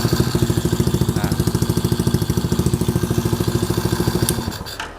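A mini trail motorcycle's 4-stroke automatic engine with a flooding carburetor runs steadily close by, a fast regular put-put pulse that holds even throughout before cutting off near the end.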